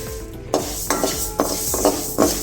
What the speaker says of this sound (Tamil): பாசிப்பருப்பை வறுத்துக்கலாம்.